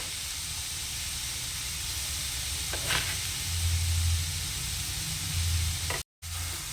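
Grated carrots frying in a pan with sugar for carrot halwa, a steady broad sizzling hiss held throughout, close and even, with a faint low hum and a brief dropout near the end.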